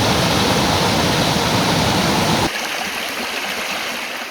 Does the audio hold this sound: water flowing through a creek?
yes